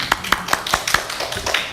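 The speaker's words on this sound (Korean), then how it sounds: "박수 한번 주세요." An audience at a Korean church service on the Gospel of Luke claps in a sparse, even rhythm, with about eight distinct sharp claps spaced roughly a quarter second apart, close and moderately loud.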